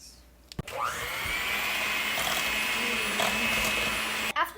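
Electric mixer beating an egg into cupcake batter whirs steadily and loudly for about four seconds, switching on after a brief clatter and cutting off near the end.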